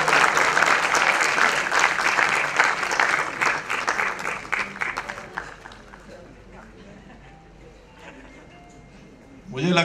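Audience applause at an award ceremony, loud and dense for the first few seconds, then thinning and fading to scattered claps before a brief renewed burst at the end.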